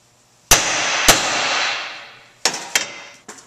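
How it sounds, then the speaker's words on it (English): A hammer strikes a steel steering knuckle to loosen an outer tie rod: two sharp ringing metal clangs, then after a pause three more quick blows, each close and loud with a lingering ring. "The best way to loosen the outer tie rod from the steering knuckle without damaging the boot is to hit it right here with a hammer"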